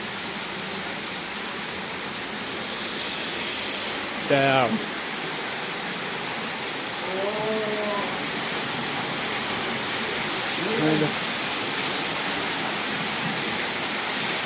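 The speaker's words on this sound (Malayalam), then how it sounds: "മുകളിൽ നിന്നൊക്കെ വെള്ളം വീഴാൻ സാധ്യതയുണ്ട്." Steady rushing water pours down nearby in a park in Lille, a constant dense hiss throughout, with a few brief voices rising over it now and then.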